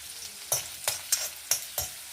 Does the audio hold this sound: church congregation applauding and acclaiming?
no